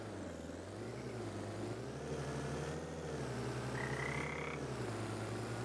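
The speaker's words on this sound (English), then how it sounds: "There's a frog chirping, I think." A frog croaks steadily in Farming Simulator 25 on the Hutan Pentai map, a low pulsing call over a constant engine-like drone, with one brief higher tone near the end.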